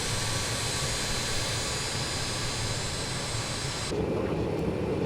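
A BAe146 jet engine spooling up during start, a steady loud broadband roar with a high whine running underneath, heard from inside the aircraft cabin and thinning suddenly near the end.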